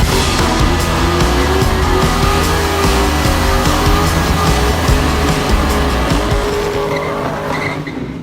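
A turbocharged LS-swapped SN95 Ford Mustang screams with a loud, sustained engine roar and continuous tire squeal, close and unbroken for several seconds before easing off at the end.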